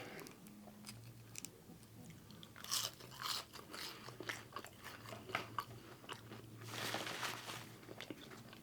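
Crispy seasoned fries crunched and chewed up close at a hot chicken restaurant, several crisp bites followed by softer chewing over a low murmur of room noise.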